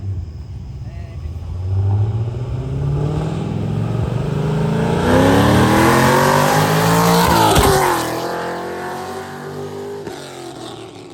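A Turbo Trans Am revs hard near a car show, its engine note climbing and sweeping up loudly for several seconds, then dropping off and fading.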